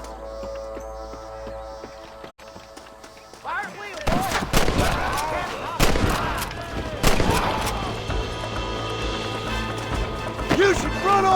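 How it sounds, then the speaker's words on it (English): Gunfire from the video game Red Dead Redemption on Xbox Series X, with a rapid burst of loud shots and crashing impacts after a quieter opening, mixed with in-game voices and a music bed. "Let's get as close as we can before opening fire."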